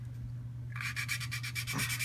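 A valve is lapped by hand into a Toyota 7AFE cylinder head, producing a rapid rhythmic gritty rubbing that starts partway in and repeats in quick strokes over a low hum.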